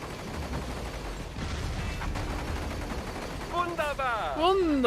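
Gunfire rattles in the Metal Gear Rising Revengeance video game as dense, continuous blasts and crackling, loud and close, with a voice talking near the end.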